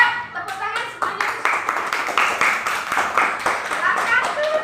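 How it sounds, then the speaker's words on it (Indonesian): A classroom of Indonesian schoolchildren clapping their hands together, a run of sharp, close claps in a loose rhythm with children's voices mixed in. "Ayo tepuk tangan semuanya."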